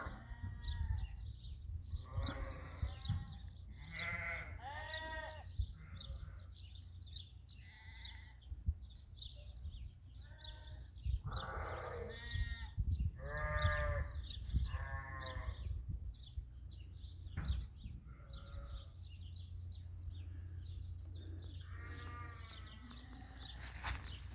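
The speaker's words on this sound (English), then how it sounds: "all the ewes are out in the field" Sheep ewes bleating out in a grassy field, many overlapping calls near and far, some close and loud, against low outdoor rumble.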